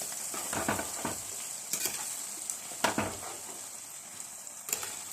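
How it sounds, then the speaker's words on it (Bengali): Garlic sizzles steadily in oil in a pan for a chili pickle, with periodic scraping clinks as it is stirred. "এইভাবে রসুনটা দিয়েও ভালো করে একটু ভেজে নিতে হবে।"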